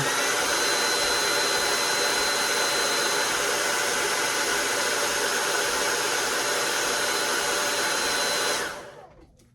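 A hot air tool heats a metal arm during a parts swap, blowing a loud, even roar that holds steady for most of the clip before cutting off near the end.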